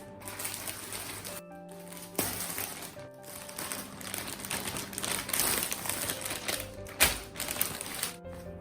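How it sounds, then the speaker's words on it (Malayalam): Plastic wrapping rustles and crinkles as a package of dresses, including a purple flared churidar material, is opened, with steady close handling noise over faint background music. "അപ്പൊ നമുക്കിത് അൺബോക്സ് ചെയ്ത് നോക്കാം."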